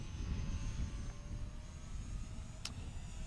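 An Eachine RC model plane flies overhead, its thin motor whine faint above a steady rush of wind and outdoor noise, with a sharp brief tick near the end.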